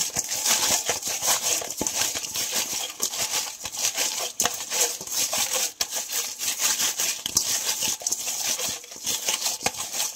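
Raw shrimp being mixed by hand with salt, turmeric and red chili powder for a fried shrimp bhuna, giving close, continuous wet squishing and rubbing with frequent small crinkly clicks and no talk.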